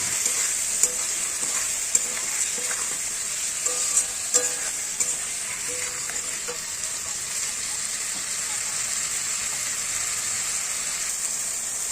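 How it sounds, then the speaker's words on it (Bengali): A paste of tomato, ginger, garlic, whole cumin and green chili sizzles steadily in a pan, with occasional spoon scrapes and light taps over the continuous frying hiss. "এরপর আগে থেকে পেস্ট করে রাখা টমেটো, আদা, 3-4 কোয়া রসুন, গোটা জিরে, কাঁচা লঙ্কা দিয়ে ভালো করে কষাতে থাকুন।"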